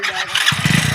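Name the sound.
motorcycle engine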